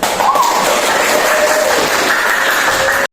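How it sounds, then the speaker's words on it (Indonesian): Steady, dense clapping from a classroom group continues without a break, fairly loud and close, then stops abruptly. "tepuk tangan buat kita"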